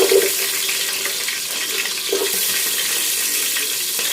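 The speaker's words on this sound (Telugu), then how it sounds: "ఇలాగ కొద్దిగా బాగా వేపుకోవాలి." Onions, green chillies and carrot frying in a pan with spices, giving a steady, loud broadband sizzle and hiss throughout, close up, with no talking.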